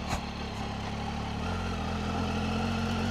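Triumph Tiger motorcycle engine running at a steady low rumble, close and continuous with no talking.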